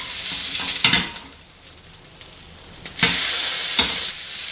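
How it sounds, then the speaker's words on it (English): A burger sizzles loudly in a frying pan, a steady hot crackle broken by sharp scraping bursts as the spatula flips and presses the patty, with no voices. "It's time to flip the burger."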